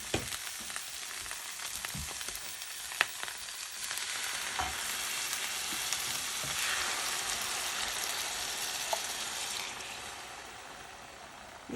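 Ankake gravy sauce for deep-fried koya tofu bubbling and sizzling steadily in a pan, a dense continuous hiss with scattered small clicks and scrapes of stirring.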